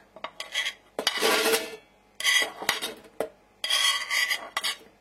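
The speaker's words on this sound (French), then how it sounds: "on place le panier cuisson, puis on y rajoute le reste de pommes de terre" Steamer basket and potatoes being placed into a Soup & Co soup cooker, several close scraping and clattering bursts of rough contact with short gaps between them.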